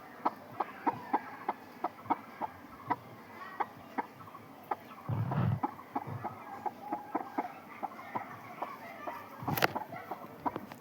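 A hen clucks softly in a steady run of short, close clucks while settling onto her eggs, with a brief rustle partway through.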